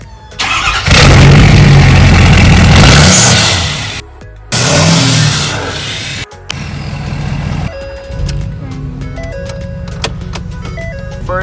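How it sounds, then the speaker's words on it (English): A 2016 Ford truck engine cranks and fires up, roaring loudly for a few seconds before settling, then the exhaust rumbles on at a steadier idle, close and dominant throughout. "I'm gonna start up and have you guys hear the exhaust."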